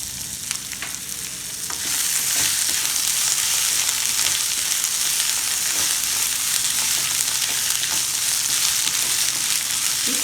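Thinly sliced carrots and other vegetables for Hakka noodles stir-fried over a high flame, a steady loud sizzle with scraping stirs throughout, intensifying after the first two seconds, no talking.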